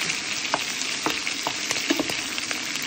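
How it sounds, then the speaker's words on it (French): Sausages sizzle in a pan with onion and bell peppers, a steady close frying hiss broken by scattered scrapes and clicks of stirring, no voices. "on mélange bien tout ça"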